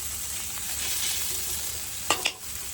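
Leafy greens fry in a pan over a steady, close sizzle that runs throughout, broken near the end by two brief clinks of a utensil.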